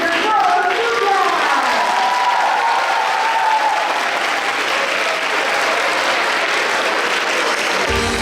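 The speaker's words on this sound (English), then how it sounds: "With your applause, loud, loud applause, she is welcome on stage" Audience at an alumni homecoming evening applauding loudly, a dense unbroken wash of clapping for several seconds, with a few voices at the start.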